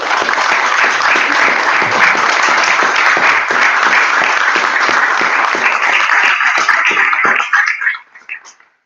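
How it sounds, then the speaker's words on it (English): Audience applause fills a home Christmas recital: dense, loud, steady clapping from a sizeable crowd that holds for about seven seconds before quickly thinning to a few scattered claps. "I want us to all give a huge round of applause to the Stiglitzes"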